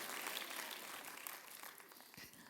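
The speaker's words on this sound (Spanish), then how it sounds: "denle un fuerte aplauso a Dios" Church congregation applauding during a Christmas service, heard faintly and at a distance as a dense, steady wash of many hands clapping that slowly thins toward the end, with a faint low voice-like sound near the close.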